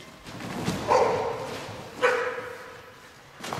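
A dog barks during an agility-style dog training session, with two distinct barks about a second apart and a third brief one at the end, moderately close over a quiet outdoor background.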